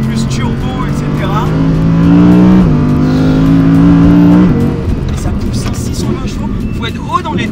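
An Audi R8 GT's V10 engine revs hard and close, its pitch climbing in two sustained pulls before easing off into a lower, rougher idle.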